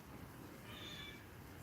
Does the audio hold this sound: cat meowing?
yes